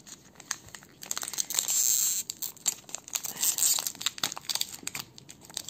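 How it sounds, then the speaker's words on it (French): Trading card booster packs being torn open, with crinkling foil wrappers and bursts of tearing and rustling in an irregular rhythm, close and fairly loud. "Donc 10 boosters à ouvrir."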